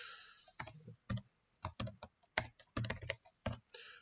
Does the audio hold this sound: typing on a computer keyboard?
yes